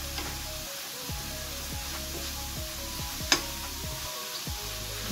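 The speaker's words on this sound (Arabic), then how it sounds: "نخليهم يقلو شوية" Eggs fry in a pan with onion and salt, giving a steady, even sizzle under a regular series of scraping stirring strokes and one sharp click, close up with no speech.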